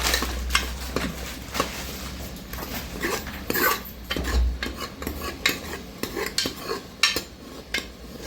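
A spoon stirs ginger-garlic paste in a pan for spicy chicken curry, scraping and clinking against the metal in an uneven rhythm of close taps over a faint low hum.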